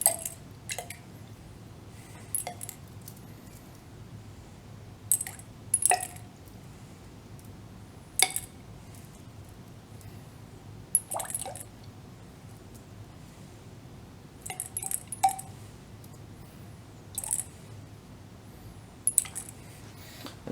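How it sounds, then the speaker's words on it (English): Lead shot pellets dropped into water in a measuring cylinder, giving small sharp clinks and plinks in scattered clusters against a quiet background. "we're going to add the shot that we weighed before to the water"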